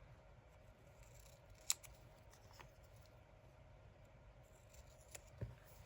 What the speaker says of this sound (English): my scissors are going blunt, I need to cut some tin foil